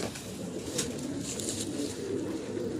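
Soft pigeon coos murmur through a steady background hum, low and continuous rather than distinct, with no voices present.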